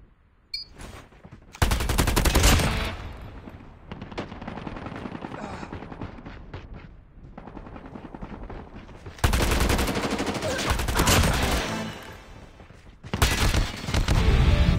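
Rapid machine-gun fire in the mobile shooter Call of Duty Mobile, loud bursts in several long stretches separated by quieter gaps with scattered shots.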